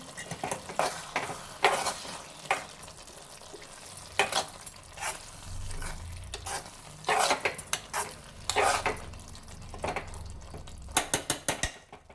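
A spoon stirring tomato curry in a pan after a pinch of coriander powder goes in: repeated scraping strokes against the pan in irregular bursts over a soft, steady frying sizzle.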